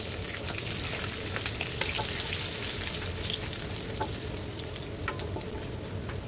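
Chicken curry ingredients fry and sizzle steadily in a pan while being stirred, a dense continuous crackle with scattered sharp pops and spatters throughout, close and fairly loud with no talking.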